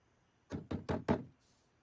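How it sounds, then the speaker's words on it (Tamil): Four firm, evenly spaced knocks on a door, close and fairly loud, with quiet before and after and no talk. "எவ்வளவு தட்டினாலும் திறக்க மாட்டான்."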